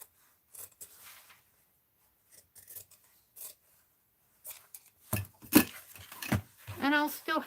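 Scissors snipping through 2-inch tape at an art journaling desk, a few short crisp cuts building into quicker, louder snips near the end, close up with no talk.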